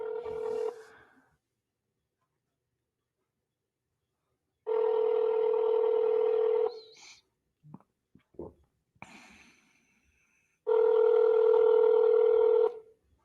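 Phone call ringback tone: a steady tone plays in two-second bursts separated by long silences, clear and close, with a few small handling clicks in between.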